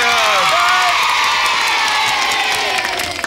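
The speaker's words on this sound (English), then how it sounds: "It's a round of applause there." A studio audience at a TV game show cheers and whoops loudly, with excited shouting and some clapping mixed into a dense, close crowd roar that holds steady before easing slightly at the end.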